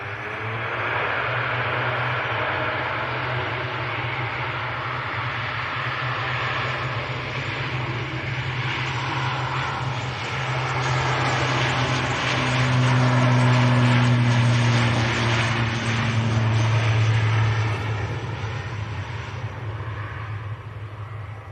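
An airliner takes off at Manchester Airport, a steady broad engine roar that builds gradually and stays loud and continuous, with low droning tones swelling in the middle and no talk over it.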